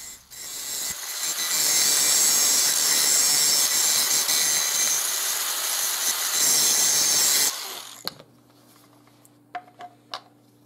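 A grinding wheel bites into knife steel with a steady, rasping hiss for about seven seconds and then cuts off, followed by a few faint clicks and taps.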